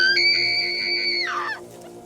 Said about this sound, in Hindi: एक भयानक चीख मारी